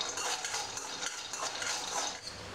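Dry peanuts roasting without oil in a pan over a low flame, giving a steady close rattle and scrape of stirring with clinks against the metal, continuous for the whole stretch with no talk.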